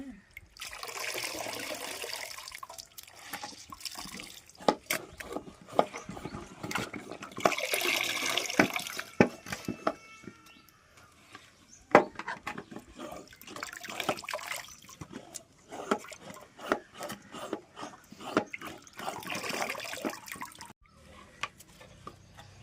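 Water is strained by hand from soaked onion peels, giving close, uneven splashing, trickling and dripping in several surges over about twenty seconds, with no voices.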